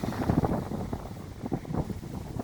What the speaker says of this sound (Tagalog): Masyado pang mahangin, pero wala namang ng ulan.